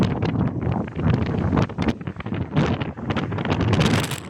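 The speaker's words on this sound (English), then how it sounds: "I want to test it and see what it sounds like with the wind." Strong outdoor wind buffets a phone microphone, producing loud, uneven low rumbling gusts and blasts that rise and fall throughout with no voices.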